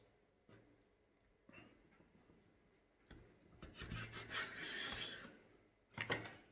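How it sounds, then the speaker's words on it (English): A knife slices diagonally across a tramezzino, a crustless Italian bar sandwich filled with egg, artichokes and frankfurter, with soft scraping strokes that build into a louder sawing cut before a final brief rasp. "now cut it diagonally across"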